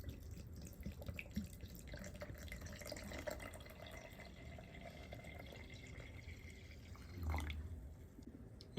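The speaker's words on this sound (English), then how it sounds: "so you just want to start by adding in some water." Water poured or trickling onto nitrated cotton balls in a container, a faint, steady liquid splash with low rumbling handling noise and a brief knock near the end.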